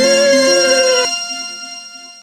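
A cellphone ringtone sounds loudly with a bright melodic chime that shifts once, then decays away alone.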